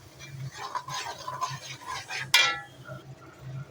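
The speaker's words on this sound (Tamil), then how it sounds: "தக்காளி ஆட் பண்ணி இதையும் நல்லா ஒரு டூ மினிட்ஸ் வதக்கிக்கலாம்" Tomatoes and onion being sautéed in a pan make soft scraping stirring noises with light clinks of a spoon, then one sharp metallic clank partway through, all close up with no voices.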